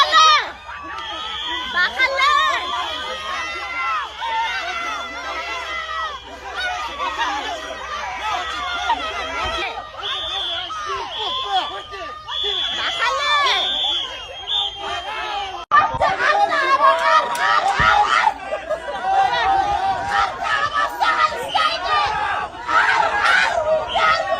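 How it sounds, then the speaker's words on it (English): A crowd surrounds ICE agents arresting a Somali woman in Minnesota, a loud continuous mix of shouting, excited chatter and raised voices that swells in intensity partway through and stays agitated to the end. "A crowd quickly surrounds them."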